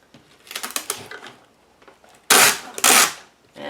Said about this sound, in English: That's the packing tape coming off the roll.